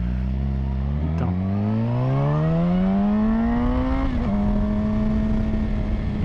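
Engine running with an adapted exhaust tip that came from another car, rising smoothly in pitch as it revs up, dipping briefly, then settling into a steady, loud drone that fills the whole stretch.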